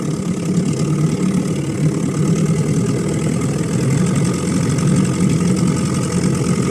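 Outboard engine on an inflatable fishing boat runs at a steady idle-like low throttle, a continuous close, loud low drone with a constant rumble and no pauses, heard alone without talk, on the sea off Peacehaven.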